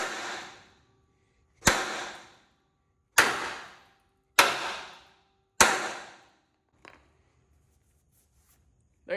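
A hammer strikes a welded race car roll cage five times in a slow, regular rhythm, each loud metallic crack ringing out and decaying before the next, then a faint lighter tap follows.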